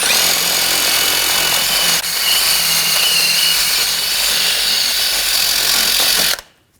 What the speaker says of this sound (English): if there's any corrosion, you want to just clean it up with a wire brush